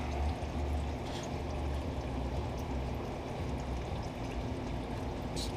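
Transmission fluid dripping and splattering from a leaking boot under a Toyota Avalon, a steady wet patter and trickle close by with no pauses, set against a low rumbling background.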